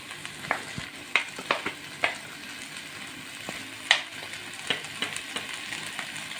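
Potatoes and vegetables sautéing in a pan for kinnam kachi chicken, a quiet low sizzle dotted with scattered light taps and scrapes of a spoon stirring, close but soft, with no voices.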